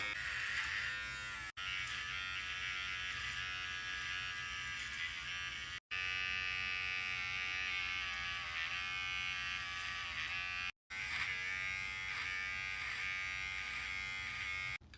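SCTTOMON electric hair clippers run up close with a steady, bright mechanical buzz, broken by three brief dropouts; no voices are heard.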